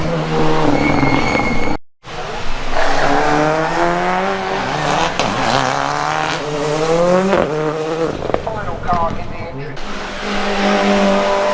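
Rally cars racing through Hall Bends at Cadwell Park, engines loud and close, revving and shifting through the bend with a brief tyre squeal, a short dropout near the start, and a voice talking briefly underneath.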